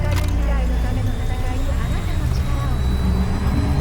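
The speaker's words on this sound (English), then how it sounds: "I mean, they have a flying car." A loud, steady engine roar like a jet-powered vehicle, from a flying car in the video game Cyberpunk 2077, fills the clip, rumbling low with a whooshing edge throughout.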